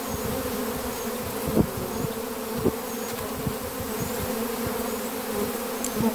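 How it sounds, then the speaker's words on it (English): Honey bees buzz densely and continuously close by, crawling over the camera at a backyard hive, a steady swarming hum with occasional louder passes near the microphone. "there's a big cluster of bees developing behind my right shoulder"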